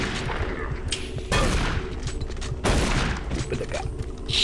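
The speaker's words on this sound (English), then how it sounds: "I killed it with a shotgun shot" Shotgun blasts from the video game Doom, two heavy broadband bursts about a second apart standing out over a dense, continuous game-action din.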